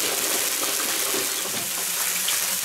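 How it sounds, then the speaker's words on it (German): French fries bubble and sizzle loudly in hot oil in a fryer at an outdoor grill, making a dense, continuous hissing roar throughout. "was jetzt so laut blubbert, sind nebendran die"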